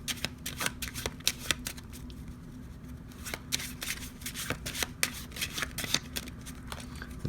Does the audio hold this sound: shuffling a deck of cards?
yes